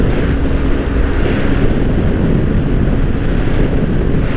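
Strong wind roars steadily across the microphone during a motorcycle endurance ride in the Philippines, a loud continuous buffeting rumble with no pauses.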